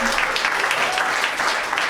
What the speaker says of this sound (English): Thank you. Applaud the poets.